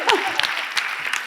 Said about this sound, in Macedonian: уште еден аплауз за Јасмина Василева